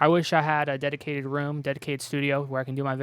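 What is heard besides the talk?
No everyday noise stands out behind the speech.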